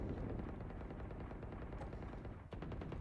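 Rapid gunfire from a Counter-Strike match crackles in dense bursts, a quiet, continuous stream of shots with a short break before firing resumes.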